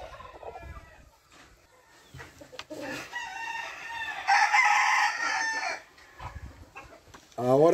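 A fighting rooster of the Mate Mango line, weighing 312, crows loudly and close, one long strained call rising out of quieter clucks and background noise, with no talk over it.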